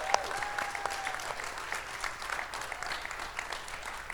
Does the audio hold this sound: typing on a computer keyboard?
no